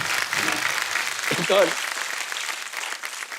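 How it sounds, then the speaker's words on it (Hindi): Studio audience at a TV comedy show, The Kapil Sharma Show, bursts into a steady wash of applause that carries on throughout, with a voice speaking briefly over it. "एक बार जोरदार ताली हो जाए जरा"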